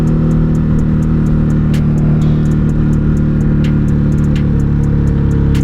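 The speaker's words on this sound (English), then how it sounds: "Here I am putt-putting with my motorcycle now." A Ducati Hypermotard 950 RVE motorcycle engine runs steadily at low speed over bumpy ground, its loud, continuous low rumble close and constant, with faint ticking clicks repeating on top and no talking.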